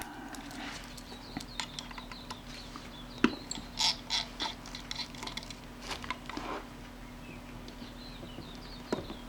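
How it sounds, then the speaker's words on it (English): Small metal parts clicking and ratcheting as the rewind shaft is removed from a Kodak Retina Reflex III camera, a string of faint, close, irregular taps over a low background hum. "I'll remove the rewind shaft."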